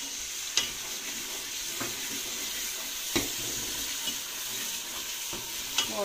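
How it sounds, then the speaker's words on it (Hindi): A masala of tomatoes and red chilli with a little added water fries in a pan, giving a steady close sizzle broken by occasional scrapes and stirs of a spoon. "और अब हम इसको इतना भूनेंगे कि इसके जो टमाटर हैं सही से गल जाएं।"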